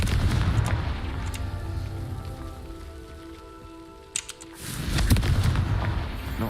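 A Confringo blasting spell goes off in a Harry Potter video game: a loud, rumbling explosive burst with a sharp crack near the middle, then a second heavy boom that rolls on to the end.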